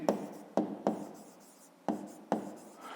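Pen strokes on paper from handwriting in a quiet room: five sharp, close scratching bursts come in an uneven rhythm, separated by short pauses.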